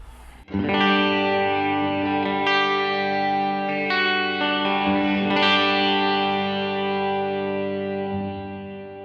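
An electric guitar through a Line 6 Helix reverb rings out in sustained chords, with a few changes of chord and long, washy tails. No one speaks.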